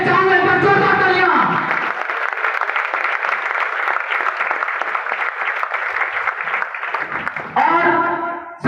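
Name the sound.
audience applause at a speech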